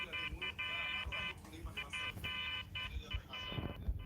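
Vehicle horn honking in the Roblox video game, a series of short repeated toots with brief gaps, with people talking over and around them.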